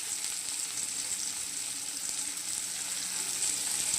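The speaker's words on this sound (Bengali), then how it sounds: "এরপর আমি এই পেঁয়াজ কুচিগুলো দিয়ে দিচ্ছি। পেঁয়াজ কুচি দিয়ে দিলাম।" Chopped onions frying in hot oil in a pan, a steady, dense sizzle that stays close and loud throughout with no pauses.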